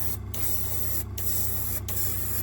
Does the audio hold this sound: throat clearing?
no